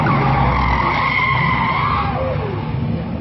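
A Ford Mustang fishtails with its tires skidding, a loud sustained squeal whose pitch wavers and sweeps downward over a steady engine roar.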